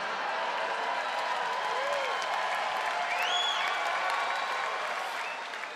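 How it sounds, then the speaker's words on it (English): A comedy-show crowd applauds and cheers, a broad steady wash of clapping with a few whoops rising above it, loud and continuous from start to finish. "I'm not sure if you're clapping for the president I'm thinking of"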